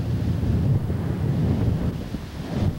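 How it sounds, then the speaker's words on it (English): Strong wind blows hard outdoors under heavy overcast in Mexico, buffeting the microphone with a steady, low rumbling roar that is close and loud throughout. "The wind is blowing pretty hard, but it feels wonderful."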